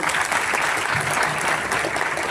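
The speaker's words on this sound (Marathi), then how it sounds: "जेवढं तिचं वय आहे ना तेवढ्या टाळ्या" A stage audience at a Shivrajyabhishek celebration claps in a steady, dense burst that is fairly close and goes on for the whole moment, with no talk over it.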